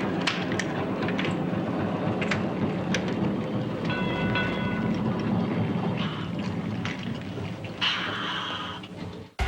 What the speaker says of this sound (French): Ah, tiens, voilà le tramway. Il est à temps.